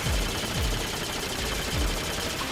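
Yuna fires her guns in Final Fantasy X-2, a quick series of punchy gunshots at an uneven rhythm, each with a low thump, over dense, steady game noise.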